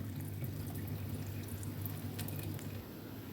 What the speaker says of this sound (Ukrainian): 180 грам рису гарненько промиваємо, щоб була чиста вода.